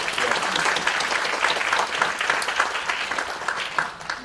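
A conference audience at a keynote lecture gives the organizers a sustained round of applause, a dense, even clapping that carries on for several seconds and fades slightly toward the end.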